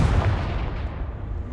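A single Confringo blasting spell explodes in the Hogwarts Legacy video game, a short, heavy boom that hits hard at once and then decays into a rumbling tail.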